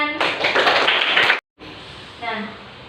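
A classroom of students applauding at a teacher's prompt: about a second of dense, loud clapping, then a sudden cutoff, followed by quieter room noise with faint voices.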